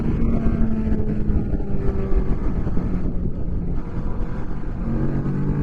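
A Kawasaki Ninja 650 motorcycle engine roars steadily with a throaty induction note, held at a constant loudness throughout and mixed with rushing wind noise on the microphone.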